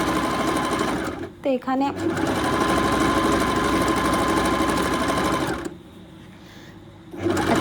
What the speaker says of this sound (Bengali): এক সাইডটা সেলাই করে নেব, আর চারিদিকে তো বাকি আছে, ওটাও করব।